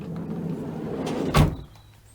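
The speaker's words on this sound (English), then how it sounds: "So if I now close the sliding door" The sliding door of a VW T5 Kombi van, with its child lock engaged, rolls shut along its track and ends in one firm, close thud, followed by quiet.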